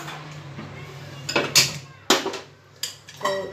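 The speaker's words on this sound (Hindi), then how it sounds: "तो मैंने एक पैन लिया है, उसको हम गैस पे रखेंगे" A metal pan clanks down onto a gas stove in a home kitchen, with a few sharp knocks and scrapes, close and fairly loud, while cooking for masoor tadka dal is underway.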